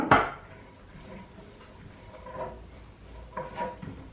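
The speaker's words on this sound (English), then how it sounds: "the onion and the garlic. Just dump it in because I don't need to be pretty about it" Roughly chopped onion and garlic dumped into a cooking pot for dal makhani, one sharp clatter at the start followed by a few softer knocks and scrapes of the pot and utensils.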